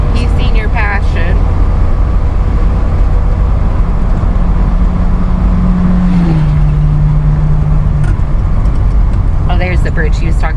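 A car drives along with a loud, steady road and engine rumble throughout, while people talk inside over the constant drone.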